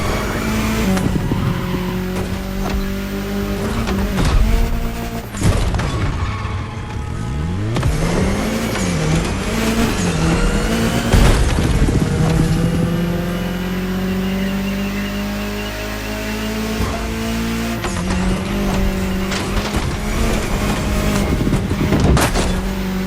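A car engine drives through a state capital town in The Crew Motorfest, loud and close, revving up and down with repeated tire squeals and skids, engine pitch swooping through several sharp turns without talk.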